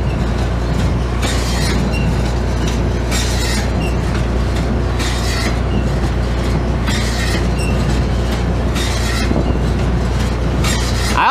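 A hay baler runs steadily with its belt turning, a loud continuous mechanical drone with a low hum and regular rhythmic clacking bursts about once a second, no talking.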